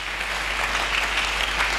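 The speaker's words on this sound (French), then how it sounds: "Acclamons très fort pour les rois des rois." A church congregation applauds loudly and steadily, a dense wash of clapping that fills the space without pause.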